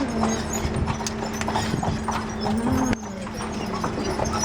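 Steady clip-clop of horse hooves trotting on pavement in Charleston, a carriage rolling along with a constant low hum in the background.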